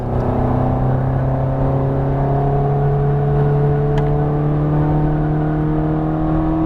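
A Ferrari F430 Scuderia on the Las Vegas Motor Speedway race track drones loudly and steadily as it accelerates, its engine note rising gradually in pitch throughout, close and continuous with no talk.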